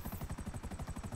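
A helicopter falling in Grand Theft Auto V, its rotor throbbing in a steady fast chop for about a second, fairly faint and heard alone without talk.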